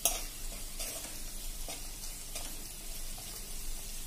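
Peanuts sautéing in hot oil in a pan for a Punjabi-style samosa filling, a continuous close sizzle broken by a few scraping stirs, with no voices.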